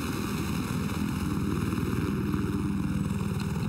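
A helicopter in Battlefield 4 drones steadily with a dense rotor and engine rumble and a faint pulsing beat, close and continuous throughout without speech.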